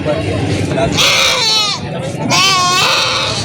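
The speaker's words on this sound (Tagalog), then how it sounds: "Itong kambing, pangkatay ni Kenelson." Goats bleat loudly and close by at a goat market in Padre Garcia, Batangas, two long wavering cries over steady background chatter and farmyard noise.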